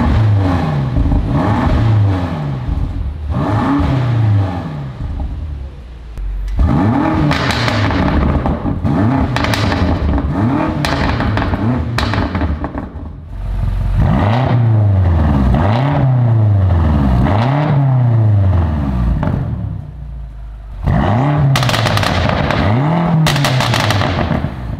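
A BMW M5 F90 Competition fitted with a Milltek catback exhaust revs hard again and again, each rise in engine pitch ending in loud crackles and pops, heard up close with brief idle pauses and no talking.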